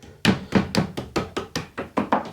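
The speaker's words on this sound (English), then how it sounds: "giving them a knock." Wooden trims on a camper van kitchen unit are tapped back into place with about nine evenly spaced, sharp knocks, close and clear, with no talking.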